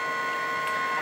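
A Lulzbot Taz 5 3D printer runs a print, giving a steady high whine of stepper motors at close range, heard alone.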